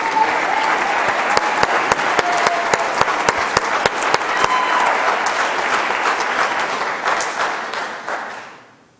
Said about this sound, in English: Let's give another round of applause for Amber